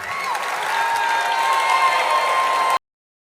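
A large crowd applauds and cheers steadily at a presidential campaign announcement rally, loud continuous clapping that cuts off abruptly.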